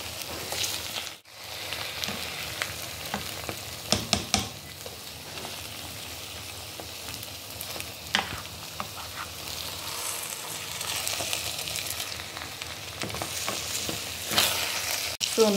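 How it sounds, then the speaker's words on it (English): Beef and turkey fry in a pan for smoky jollof rice, a continuous crackling sizzle with occasional sharp pops and stirring clatters, close and steady throughout. "So now I'm frying our beef and our turkey."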